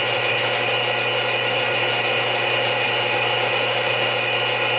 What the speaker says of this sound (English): I'm going to switch to a smaller detail gouge, a little less cutting edge.